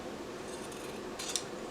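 Scissors snip the corners of fabric for a handmade tablet sleeve, two or three quick close crisp cuts in an otherwise quiet room.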